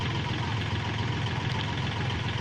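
Engine of a farm tilling machine bogged down in soil, running at a steady, rough low idle with constant vibration, close and continuous throughout with no talk.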